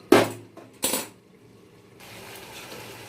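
A lid is set onto a pot of mourala fish curry with potatoes still boiling, producing two sharp, close metallic clanks less than a second apart, followed by a quiet steady simmer.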